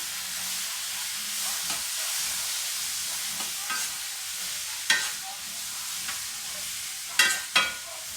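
Balsamic and red wine vinegars sizzle and steam in a hot pan while being stirred around, a steady close frying hiss broken by a few sharp scraping clicks of the utensil against the pan.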